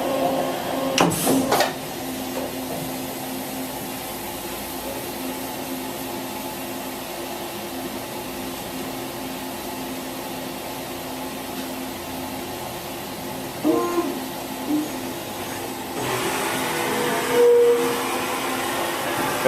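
A continuous mechanical whir and hum from a Daewoo DMV5025-50 CNC vertical mill moving its axes, with a couple of brief knocks and a rising whine near the end.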